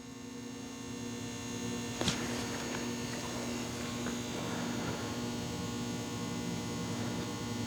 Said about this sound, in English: I'm going to turn on the fan